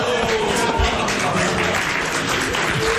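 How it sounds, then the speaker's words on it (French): A TV studio audience applauds in a French game show, dense, loud clapping filling the whole short stretch, with a voice mixed faintly into it. "C'est un nouveau, merci de l'applaudir."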